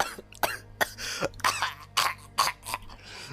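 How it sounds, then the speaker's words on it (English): Close, loud coughing fit from one person, a rapid series of harsh coughs and throat clearing in irregular bursts, with no talking. "and then I start coughing"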